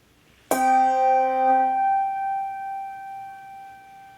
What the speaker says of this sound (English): Now I'm going to ring this bell,